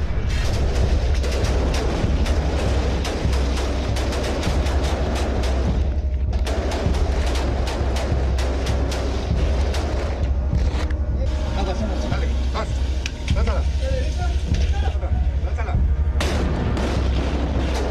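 Intense gunfire and explosions during a shootout between marines and armed attackers, a dense, loud, continuous barrage of sharp cracks and booms layered over a heavy low rumble, with voices underneath.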